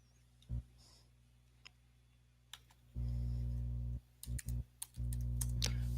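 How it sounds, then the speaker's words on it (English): Keys clatter on a computer keyboard in quick clustered bursts, close and fairly loud against a quiet room, with short pauses between runs of typing. "Just typing something in there"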